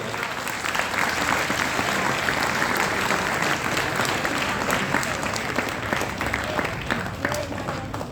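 A large audience at an Arya Samaj Vedic bhajan gathering in Hisar, Haryana claps loudly and steadily, a thick unbroken wash of applause lasting the full eight seconds.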